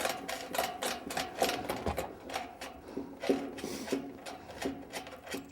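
U-bolts being tightened on a truck toolbox mount: quick, close ratcheting clicks in an uneven, rapid rhythm, moderately quiet, with no talking.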